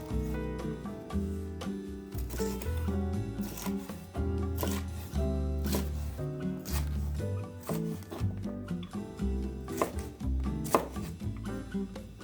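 A knife chops red peppers on a cutting board in quick, steady rhythmic taps, close and crisp, with music playing underneath.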